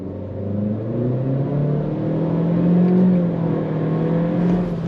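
A 2023 Acura Integra accelerating from a dead stop, its engine note rising steadily in pitch and loudness over several seconds, heard from inside the cabin with no talking.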